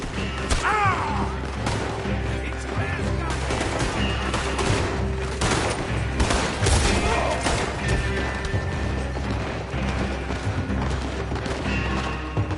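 Rapid gunfire erupts in a Wild West shootout in the video game Red Dead Redemption 2, with dense overlapping volleys of shots and booms that continue loudly and almost without pause.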